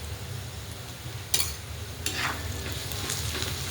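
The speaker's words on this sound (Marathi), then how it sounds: "इथं घेतलेला आहे मिरचीचा ठेचा, तो आता टाकून घेऊया आपण तेलामध्ये." Chili-garlic thecha dropped into hot oil with golden onions, a steady close sizzle and frying hiss that swells after a brief clatter, with a little stirring against the pan.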